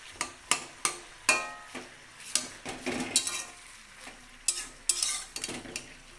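Spinach and chicken with garlic being stir-fried in a pan: a string of sharp metallic clinks and scrapes from the spoon over a faint sizzle, the strokes irregular and close.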